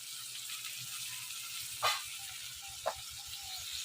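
Prawns fry in hot oil in a home kitchen, giving a steady, even sizzle that fills the whole clip, with two short sharper crackles along the way.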